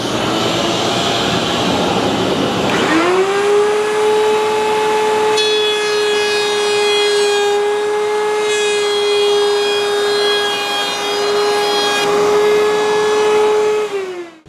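A router bit takes a half-inch-deep pass through wood, starting with a rising whine that settles into a loud, steady high-pitched tone with harmonics, held for about ten seconds before winding down.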